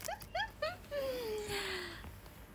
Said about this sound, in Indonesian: Itu bunyi burung murai ya?